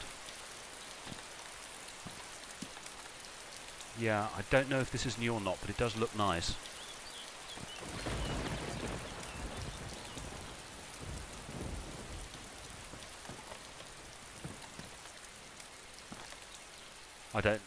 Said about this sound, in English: I appear to have rain running down my own body with droplets of water hitting it, and there's rain on the ground.